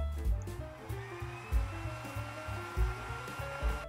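A Power Living CH600 travel electric clothes dryer rack runs with a steady fan whir and airy hiss, plus a soft pulsing low thump repeating about every second, close and continuous.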